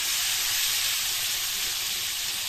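Potatoes frying in oil in a pan hiss and sizzle as a continuous, bright, steady crackle, close and fairly loud with no voices.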